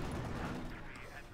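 Sniper fire and battlefield gunfire from the Company of Heroes 2 strategy game sound as a faint, dense rumble of shots and blasts, heard under an energetic commentator's voice.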